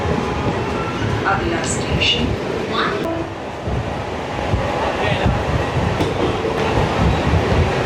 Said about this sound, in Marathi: ही ते प्लॅटफॉर्मवर 2वर लागली होती बोईसर रेल्वे स्टेशनच्या आणि आता निघाली.